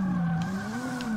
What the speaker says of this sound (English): I'm still drifting.